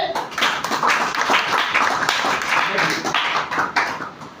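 Audience clapping loudly and steadily for Vidhan, a dense, sustained round of applause close by with no break across the few seconds.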